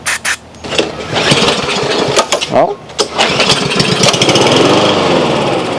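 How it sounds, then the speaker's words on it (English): A lawn mower with a fuel problem sputters and catches after starting fluid is sprayed into its intake, then runs with a loud, rough, uneven engine roar close by, and a voice briefly exclaims. "It actually runs, so that means all the problem with the lawnmower is a fuel problem."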